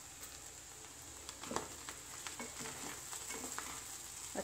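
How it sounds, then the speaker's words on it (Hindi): A spoon stirs sabudana khichdi in a pan, soft scraping and clicking strokes over a steady gentle sizzle, close and moderately quiet. "अच्छी तरह मिक्स कर लेते हैं।"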